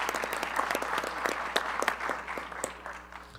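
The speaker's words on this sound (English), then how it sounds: "let's give one more round of applause for Sarah Keith" Audience applause for a student, Sarah Keith, at a school board meeting: a steady patter of many hands clapping at moderate volume, holding for several seconds with scattered sharper claps and no talk over it.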